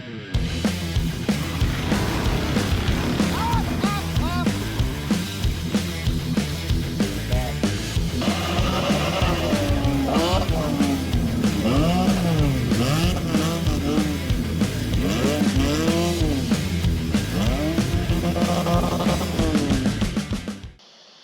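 A 1972 Chevy Suburban C10 engine cranks, catches and runs, settling into a loud, steady idle with rising and falling revs heard up close for about twenty seconds, then cut off.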